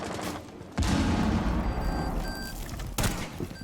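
A grenade explodes in Rainbow Six Siege with a loud sudden boom, followed by rumbling debris and a second sharp blast near the end, with no voices during it.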